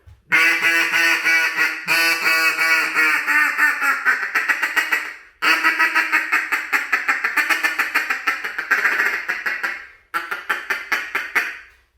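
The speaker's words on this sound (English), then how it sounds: "when you see the ducks, of course, you're going to give them a hail call." An LXM duck call blares a hail call, a long, loud series of rhythmic quacks, broken into several runs with short pauses, close and piercing.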